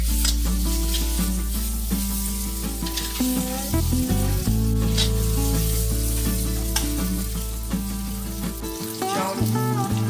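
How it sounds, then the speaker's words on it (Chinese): Tofu skin puffs stir-fry in a pan with vegetarian fried rice ingredients, giving a steady close sizzle with scraping stirs, set under continuous background music. "豆包后炒约30秒"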